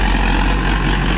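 A Sonalika DI-750 III tractor engine runs steadily at about 1700 RPM while pulling an 8x8 disc, a loud, close, continuous low rumble with no break.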